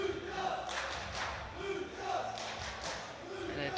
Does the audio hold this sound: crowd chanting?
yes